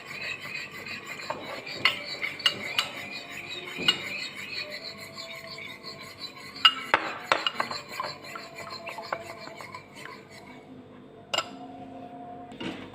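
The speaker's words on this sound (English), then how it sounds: "We mix again, so the egg, the salt and soy sauce can mix it" Egg beaten with salt and soy sauce in a bowl, a utensil scraping and clinking against the sides in an irregular stirring rhythm with scattered sharper taps, close and moderately quiet.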